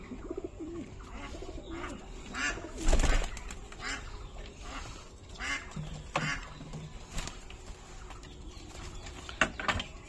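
Giribaz and Madras pigeons cooing softly, with a brief louder burst of wing flapping; faint and close in a quiet setting.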